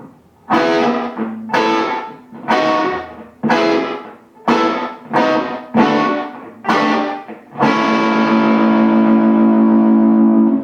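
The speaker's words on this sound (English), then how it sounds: "So now that whole riff in context sounds like this." A distorted electric guitar riff of moveable partial chord shapes played slowly, eight separate ringing strums spaced about a second apart, each decaying, closing on one long sustained chord; loud, alone, with echoey effects.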